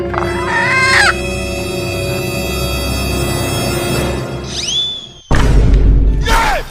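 Chickens cluck loudly close by and a rooster lets out a rising crow, with a sudden louder burst of clucking near the end and some voices mixed in.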